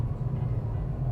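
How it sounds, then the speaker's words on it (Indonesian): A Mercedes-Benz E-Class coupe running smoothly on the move, heard from inside the cabin as a steady low hum for a brief moment. "Ini suara mesinnya juga masih halus banget sih."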